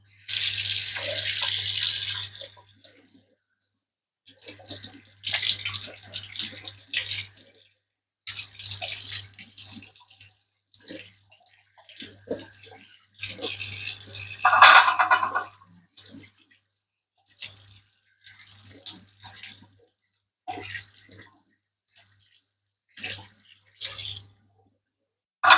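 Tap water runs into a kitchen sink in repeated bursts while cucumbers are rinsed under it, with splashing, short pauses and faint handling sounds between runs.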